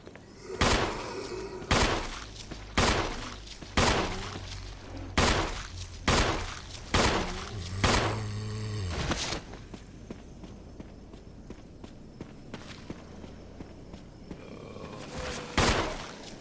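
Gunfire in the Resident Evil Remake video game: about eight loud, evenly spaced shots ring out one after another, then a quieter stretch with clicks and faint action before one more blast near the end.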